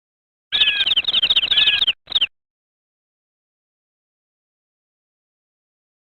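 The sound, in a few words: chaffinch chirping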